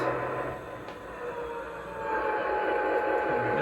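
An Aristocraft SD-45 model locomotive fitted with a Zimo DCC sound decoder runs with a steady, droning diesel engine rumble that builds in intensity as it speeds up, and a voice briefly speaks over it.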